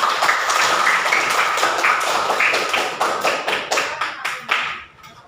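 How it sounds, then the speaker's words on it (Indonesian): Classroom applause for a student group, many hands clapping together in a brisk, fairly loud patter that thins into a few last scattered claps and stops. "kita beri aplaus untuk kelompok kedua"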